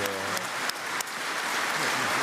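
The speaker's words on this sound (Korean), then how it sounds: "문재인 대통령의 박수로 맞아주고 있습니다" Members of the Uzbek parliament applaud the visiting South Korean president, a loud steady wall of clapping from a large chamber filling the whole stretch.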